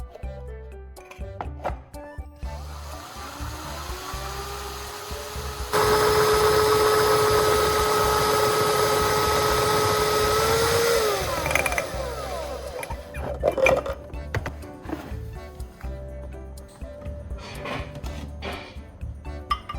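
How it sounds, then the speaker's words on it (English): A homemade grinder, a glass jar driven by a power drill, whirs in a steady high motor whine for several seconds between quieter clinks and handling sounds. "Now, I'll connect the whole assembly to the drill, and just like that, the homemade grinder is complete and ready to use."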